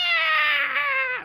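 A small imp screaming in a fantasy tabletop story, a single shrill, wavering wail lasting about a second, loud and close, rising slightly then sliding downward as it cuts off.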